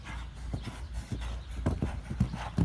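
Hooves of a show-jumping horse clip-clop in an uneven rhythm across about three seconds, moderately loud and close, with no talk over them.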